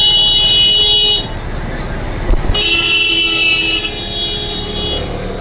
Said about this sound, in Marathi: ट्रॅफिक जॅम आहे पूर्ण तिथेच.